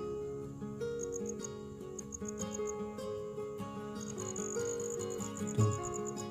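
Several crickets chirp from inside a single burrow hole, a steady layered trill with a higher rhythmic pulsing chirp joining in bursts, close and clear with no talking over it.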